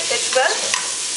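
One quick scraping stir passes through onion, tomato, Chinese okra and potato frying with salt and turmeric, a short close sizzle with no voices.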